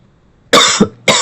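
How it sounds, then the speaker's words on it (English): Two hard, close coughs from one person, a loud burst followed by a second shorter cough after a brief pause, with no talking. "sorry I had to cough again"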